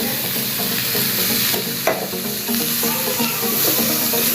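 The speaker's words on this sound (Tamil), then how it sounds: "நம்ம வேக வச்சு வடிகட்டி வச்சுருக்கிற முள்ளங்கி இதில் ஆட் பண்ணிக்கலாம்" Boiled, drained radish goes into a pan of frying onions and gets stirred, making a steady loud sizzle with scraping spoon strokes throughout.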